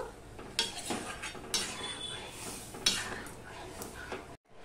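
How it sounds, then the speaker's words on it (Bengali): A spoon scrapes and clinks around a pot as cooked dal and jute greens with turmeric are mixed together, a few sharper strokes standing out over a steady close-up rustle before stopping abruptly near the end. "এবার আমি ভালো করে মিশিয়ে নেব ডাল আর শাক।"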